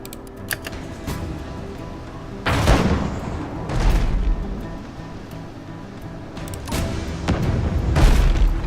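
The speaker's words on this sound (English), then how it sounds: "Man the chain shot swivel gun to get it fully loaded." A chain-shot swivel gun fires in the naval video game Abandon Ship, with several booming shots arriving in bursts over a bed of ocean waves and game ambience, moderately loud, with faint clicks between them.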